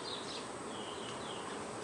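Honey bees hum steadily around an open hive during a frame inspection, a continuous, fairly faint droning buzz with no voices.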